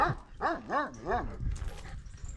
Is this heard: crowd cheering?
no